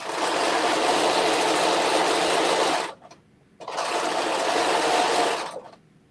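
A sewing machine fitted with a rolled hem foot stitches fabric in two loud, steady bursts of rapid whirring, separated by a short pause.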